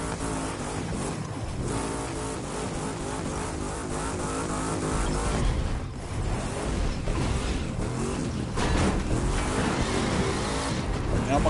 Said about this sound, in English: I'm gonna pick this, the SRT Viper GT Drag Edition